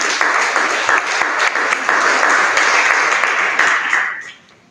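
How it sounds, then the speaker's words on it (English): Conference audience at a women's career advancement network event breaks into sustained applause, dense steady clapping filling the room before fading out at the end. "it's a good place to clap"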